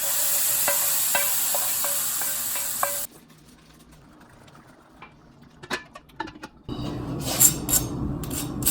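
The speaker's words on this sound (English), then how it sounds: "We can hear the nice crispy texture of the fried panko." Crispy panko-breaded fried pork being cut with a knife, giving close, crunchy rasping strokes broken by a short quiet stretch, then a louder burst of crackling cuts.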